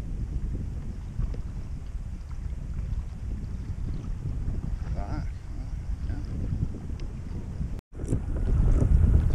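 A motor boat runs on the sea near a kayak in North West Bay, Tasmania, its steady engine drone mixed with heavy wind buffeting the microphone and growing louder toward the end.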